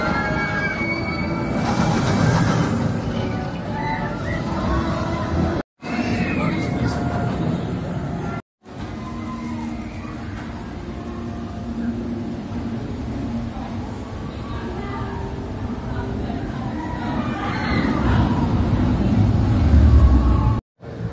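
Colossus roller coaster at Thorpe Park in motion, a continuous rumbling roar of the train on its track with riders' voices and screams rising over it, brief cuts of silence between stretches.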